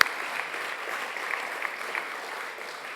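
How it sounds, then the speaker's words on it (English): A brief burst of audience applause at an automotive-supplier innovation awards ceremony, steady close clapping from a room full of people lasting a few seconds. "please join me in a big round of applause for the team that made the event happen this evening"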